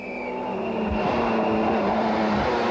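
A rally car driven flat out on a special stage of the 1994 ADAC Deutschland Rallye, its engine note rising and holding at high revs as it sweeps past at close range, loud and unbroken.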